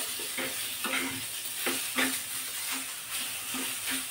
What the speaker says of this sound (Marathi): आता हे चेरी टोमॅटो छान भाजून घ्यायचे बघा।